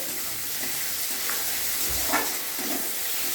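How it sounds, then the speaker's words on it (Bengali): Chopped tomatoes fry in hot oil in a pan, giving a continuous, close sizzling hiss with faint stirring sounds now and then and no voices. "দিয়ে দিলাম এই যে টমেটো কুচি। ভেজে নিব তেলে ভালো করে।"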